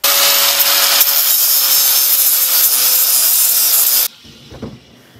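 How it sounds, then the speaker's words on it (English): An angle grinder with a flap disc grinds metal on a Jeep ZJ Grand Cherokee snow plow setup, making a loud, steady harsh whine for about four seconds before cutting off, followed by faint clunks. "I'm gonna flap disc that baby down"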